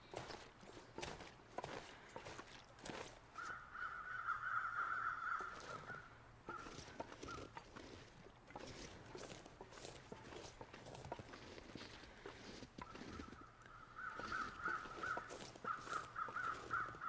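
Crows caw in hoarse repeated bursts at a distance in the video game The Long Dark, over a rhythm of footsteps crunching along, quiet overall.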